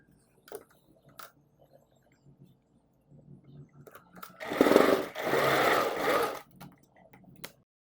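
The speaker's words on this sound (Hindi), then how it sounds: "अब हम दूसरे शोल्डर की सिलाई लगाएंगे।" A sewing machine stitches the shoulder seam of a little girl's kurti in one short burst of close, steady whirring, with quiet clicks and fabric handling before and after.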